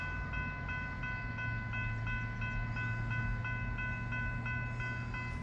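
A freight train rumbles steadily nearby, with a low heavy roll and a faint, sustained steady tone riding above it. No one speaks.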